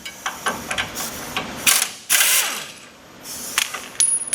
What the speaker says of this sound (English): Okay, you remove the tow hook like that.